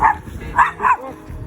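A dog barks three times in quick, close succession, loud yips with short gaps between them, while a person's voice is faintly present in the background.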